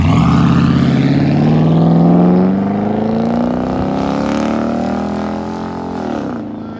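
A 2020 Dodge Durango R/T with a 5.7L Hemi V8 and aftermarket exhaust revs hard up through a rising, loud throaty roar, then settles back down as the engine note falls away.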